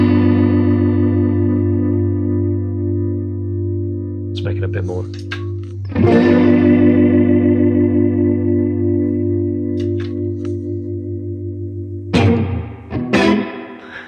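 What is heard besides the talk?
electric guitar through Line 6 Helix Texas blues preset, modulation speed changed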